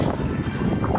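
Strong outdoor wind gusts buffet a microphone during a Pokémon GO walk, making a dense, continuous low rumble with no clear pauses.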